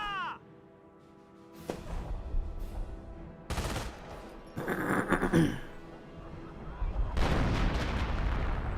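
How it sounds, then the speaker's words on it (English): An artillery barrage rumbles through a Company of Heroes World War II strategy match, with heavy booming blasts arriving in broad, close bursts alongside a lighter whistling onset, loud and layered over in-game battle noise. "Artillery barrage right there."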